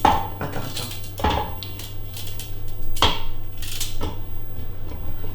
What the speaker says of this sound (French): Donc nous coupons les carottes avec un couteau tupperware, évidemment.